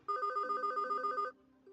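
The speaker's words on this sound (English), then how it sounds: "You hear a ringing noise, and your father takes his phone out of his pocket." A mobile phone ringtone plays a bright, repeating two-note electronic melody, loud and close, for just over a second before cutting off, with no voices over it.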